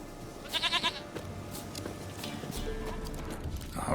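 A goat in The Witcher 3: Wild Hunt gives a short wavering bleat early on, followed by faint hoof clops and soft game ambience, with no talking.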